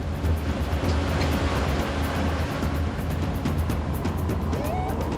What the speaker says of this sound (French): Le bruit des moteurs couvre à nouveau le chant des oiseaux, comme celui des pelleteuses